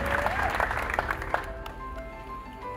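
A church congregation claps together, a burst of dense applause that fades after a couple of seconds, mixed with voices and a lingering tone.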